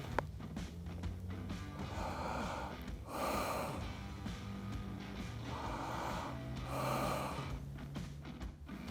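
Slow, deep breathing of a shooter aiming a rifle, two long inhale-exhale cycles heard close and steady over a faint low background hum, without talk.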